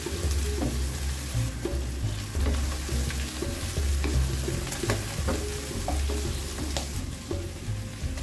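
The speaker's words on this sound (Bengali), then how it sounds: "চিংড়ি মাছগুলো হালকা একটু ভাজা হলে আমি এক একে সব মশলাগুলো দিয়ে দেব।" Shrimp sizzle continuously in a hot pan, loud and close, while a utensil scrapes and stirs in an irregular rhythm throughout, and nobody speaks.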